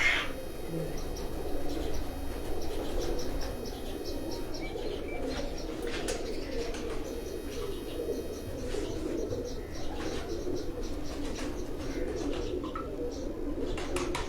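Soft, repeated cooing of pigeons blends with chirps and rustling in a busy rooftop loft, with a low murmur of voices underneath.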